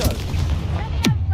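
Confringo spell cast in the Hogwarts Legacy video game: a loud explosive blast with a sharp downward-sweeping whoosh near the end, over a constant low rumbling game background.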